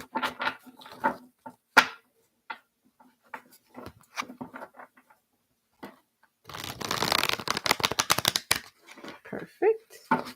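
A voice talks in short phrases, then a deck of tarot cards is shuffled briskly for a couple of seconds, riffling loudly and close up.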